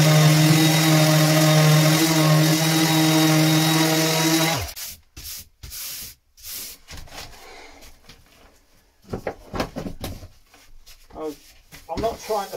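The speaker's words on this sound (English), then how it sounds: "I'm not trying to sand away too much of what I put on there." Filler is sanded to smooth edges on a project boat, as a steady, loud rubbing drone lasting about four seconds, then scattered scrapes and handling noises with someone talking.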